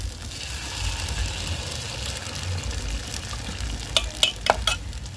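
Egg paniyaram fries in a pan in a Jaffna-style kitchen, a steady low sizzle with a few sharp spitting pops near the end, fairly faint and without talk.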